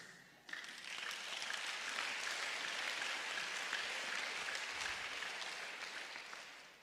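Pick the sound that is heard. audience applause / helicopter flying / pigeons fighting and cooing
audience applause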